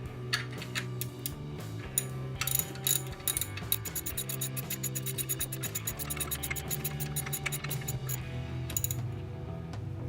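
A ratchet wrench clicks steadily while snugging alternator mounting bolts on a car engine, with close, fast, crisp pawl clicks in repeated bursts that quicken toward the end.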